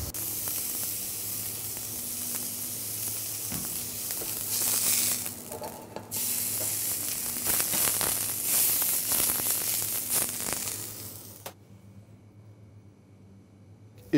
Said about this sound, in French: On va cuire la viande, alors un filet d'huile d'olive dans une poêle bien chaude